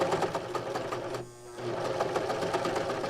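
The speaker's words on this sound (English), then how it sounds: "I'm just going to sew off the edge and cut that." A serger sewing machine stitching thick fabric for a triangle bag, a close steady mechanical whirring that stops briefly near the middle and then resumes.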